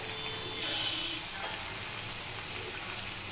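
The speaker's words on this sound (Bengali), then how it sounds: "আমি ঢাকা দিয়ে দিয়ে ভেজে নেব।" Fish head frying in a pan over medium heat after turmeric goes in, a steady loud sizzle with faint stirring that holds evenly throughout.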